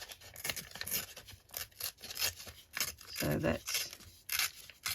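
Material being ripped by hand for making clusters, a series of short tearing and rustling bursts, the loudest stretch near the end, under and between a person's talk.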